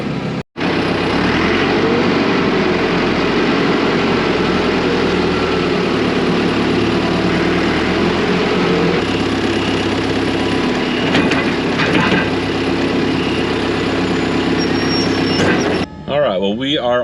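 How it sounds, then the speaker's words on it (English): A newer John Deere 210 tractor engine runs steadily and loud in hot weather, a constant low droning rumble with a brief cutout near the start and a shift near the end, while a person talks over it. "these newer John Deere 210s, man, this thing is so much smoother than his is"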